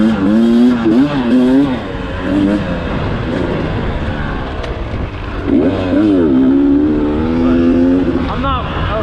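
A Beta dirt bike engine revs hard on a climb at a demo day at Burning Rock, a loud buzzing motor whose pitch sweeps up and down repeatedly, close and continuous.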